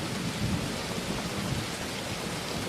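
Steady heavy rain pours over a dense, continuous hiss, with deep rolling thunder rumbling underneath throughout; close, loud storm ambience with no voices.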